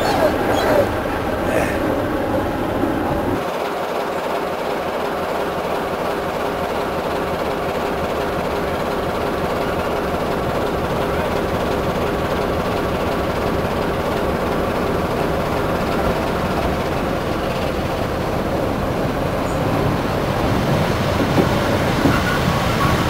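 A train pulls into a station on the North Yorkshire Moors Railway with a steady rolling rumble and rhythmic wheel clatter, a dog barking excitedly alongside and people talking in the background.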